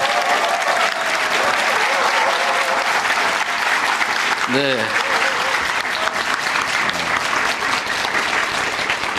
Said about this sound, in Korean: 다른 지역들과 달리 이렇게 열렬한 환호를 보여주는 걸로 봐서